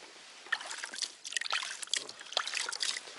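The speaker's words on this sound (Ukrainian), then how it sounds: "Прикормочка, полпачки, пачки висипаю спортивної прикормки" Dry sports groundbait for feeder fishing, half a packet, is tipped out on a riverbank, giving a close, uneven rustling patter of crumbly particles that swells and fades in short bursts.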